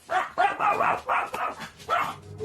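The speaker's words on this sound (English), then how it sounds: "a knock sounds at the door, setting off the dog alarm" A dog barks repeatedly in reaction to a knock at a door, with about five loud, close, evenly spaced barks in quick succession and no talking.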